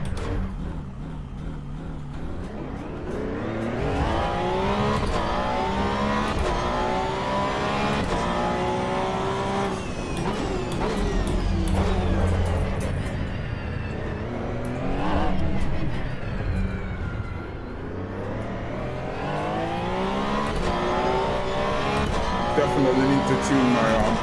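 Racing cup car engine in the sim game Assetto Corsa Evo, revving up and down through gear changes in a steady, loud in-car drone, with a person talking over it.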